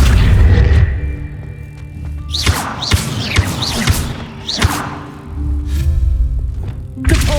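Accio summoning spell cast in the Hogwarts Legacy video game: a run of deep booming thuds and whooshing magical swells, several bursts in quick succession, loud and close with no talk.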